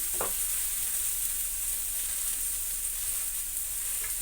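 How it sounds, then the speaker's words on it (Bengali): Potato curry with turmeric frying in a pan, giving a steady, even sizzle throughout with a couple of faint scrapes of stirring and no talking. "চলো নাড়াচাড়া দিয়ে নিই এবার নুন দিয়ে দিচ্ছি"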